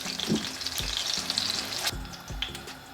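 Breaded chicken breast cutlets browning in hot fat in a frying pan give a continuous near sizzle, with a few low knocks and a brief sharp clatter midway, and no voices.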